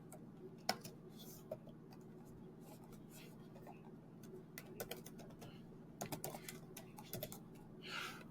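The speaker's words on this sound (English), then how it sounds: "I am struggling with my keyboard." Sporadic clicks of a computer keyboard being typed on, in short uneven bursts at close range over a steady low hum, with a quiet talking voice in the background.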